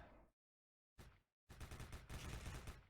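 Rapid automatic gunfire in the video game Special Force M, in short and long bursts, loud and close, separated by brief silences, with an electronic game-like character.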